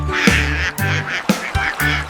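A voice imitates a duck, giving four loud, nasal quacks in an even rhythm, close up with no other sound around them.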